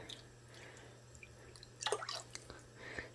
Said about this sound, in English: I'm going to take this orange juice and I'm going to pour it around it.